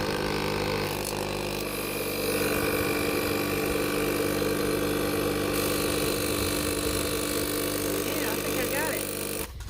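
An air compressor rigged on a vehicle's bumper during a rear wiper washer repair runs with a steady, loud mechanical drone and hum throughout, cutting off abruptly at the very end, with faint voices in the background.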